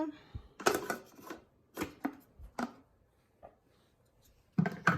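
A lid is set onto a Thermomix TM6 kitchen machine while candied orange peel is being prepared, giving several sharp plastic clacks and clatters in quick bursts, close by, with short quiet gaps.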